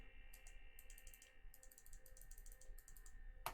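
Someone types a short name on a computer keyboard, producing quick, quiet clusters of key clicks with brief gaps and no voices.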